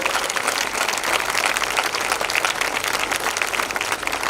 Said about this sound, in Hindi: एक बार तालियां बजा दीजिएगा।